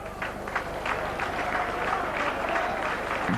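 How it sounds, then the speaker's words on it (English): Crowd applause at a 1986 rugby league match between St Helens and Castleford, a steady roar of clapping from the stands, continuous and moderately loud throughout with no distinct voices rising above it. "The crowd very generous in their applause for the Yorkshire team."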